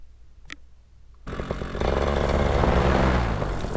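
A small aircraft engine idles with its carburetor leaned, bursting in loudly after a brief quiet and settling into a close, steady, rough drone that grows slightly fuller.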